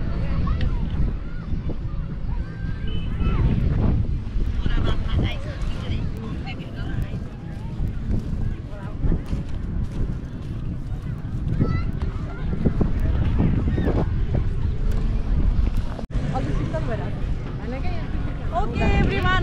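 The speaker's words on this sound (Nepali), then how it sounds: "शीतल हावा आयो" Cool wind buffets the microphone outdoors at Bora Dam in Sunsari, rumbling and gusting loudly and unevenly throughout, mixed with people talking.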